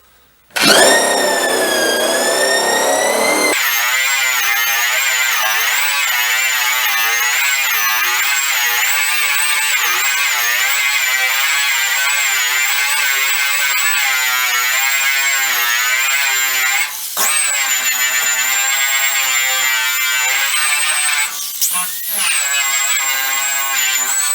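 Eastwood Contour SCT surface conditioning sander whining loud and close for about twenty seconds, its motor pitch wavering and sagging as pressure is applied, with a brief dip near the end.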